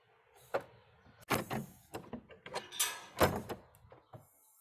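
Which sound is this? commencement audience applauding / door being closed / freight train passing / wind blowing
door being closed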